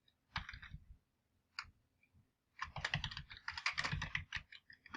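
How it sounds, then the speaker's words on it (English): Student names being typed on a computer keyboard: a short burst of keystrokes, a pause with a couple of isolated taps, then a longer rapid run of clicking keys, close and fairly quiet with no voices. "you type in whatever students you want"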